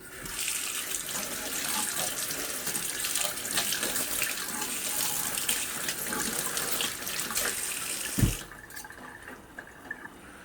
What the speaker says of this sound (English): I'm gonna wash all this.